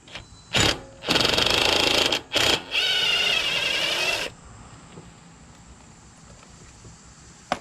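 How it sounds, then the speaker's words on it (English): Impact wrench removing a bolt on a Briggs & Stratton 20 HP Intek V-twin engine during a Craftsman LT2000 lawn tractor repower, firing in a few short bursts and then a longer rattling run of about one and a half seconds, close and loud, then quiet. "Removing it with an impact is okay."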